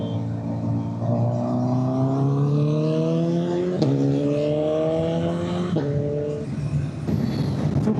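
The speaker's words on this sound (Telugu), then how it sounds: "సూపర్ బైక్ సౌండ్ వింటుంటే ఏం మాట్లాడబుద్ది కాదు, ఆ సౌండ్ వింటూ ఉండాలనిపిస్తుంది" A superbike engine cruises on a highway, its tone climbing steadily through gears with brief dips at each shift, loud and close, with wind rushing throughout.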